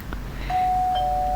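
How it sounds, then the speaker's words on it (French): A doorbell chimes once inside the Roblox game A Broken Dream, a sustained bright electronic tone that starts partway in and rings on steadily to the end, with no voices over it. "Ding dong."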